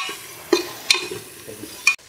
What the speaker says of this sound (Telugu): స్వీట్ కార్న్ ఏదైతే ఉందో అది వేసుకొని లైట్గా అది ఫ్రై చేసుకోవాలి